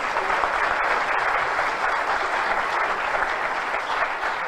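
Welcome applause for a speaker at a Greek political event, a dense, steady roar of many hands clapping at close range that holds the same level throughout, with no voices heard over it.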